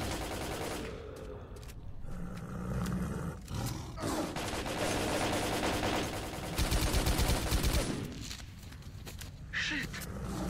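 Gunfire in S.T.A.L.K.E.R.: Call of Pripyat, loud repeated shots and bursts over game noise, with a rapid automatic volley in the middle and scattered louder cracks.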